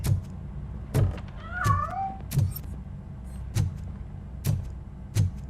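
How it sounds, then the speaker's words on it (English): A video game cat in Robocop: Rogue City meows once in a rising, wavering call amid a steady series of dull thumps repeating about every second, with a low hum underneath. "That cat must be hiding inside."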